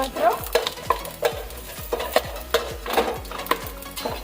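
Black pepper and cloves fry in hot oil with a busy sizzle, broken by regular sharp clinks and scrapes of a spoon stirring in the pan, close and fairly loud, with no speech.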